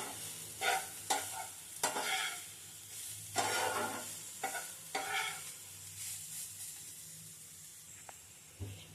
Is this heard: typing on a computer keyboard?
no